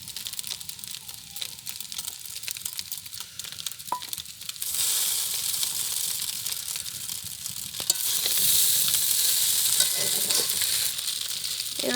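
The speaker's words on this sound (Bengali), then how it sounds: "এবার দিয়ে দিচ্ছি আমার ডিম ঝুরঝুরে করা ছিল।" Scrambled egg for chowmein fries in a hot pan, a soft sizzle that swells into a loud, bright hiss as it is stirred, alone without talk.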